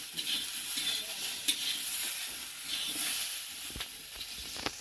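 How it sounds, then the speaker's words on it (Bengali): New potatoes fry in a pan with a steady, close hiss of sizzling oil throughout, broken by a few scraping stirs and light clicks of a spatula against the pan. "নতুন আলু একটু ভালো করে ভাজতে হবে"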